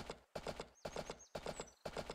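Horse hooves clip-clop in the farm game Story of Seasons: A Wonderful Life, a quick rhythmic run of close hoof beats in four repeated bursts with brief gaps and faint game tones.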